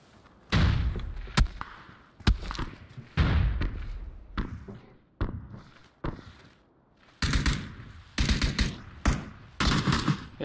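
Gunfire in the PUBG video game, scattered loud single shots and short bursts aimed at the player, arriving irregularly with gaps between, with a voice barely present.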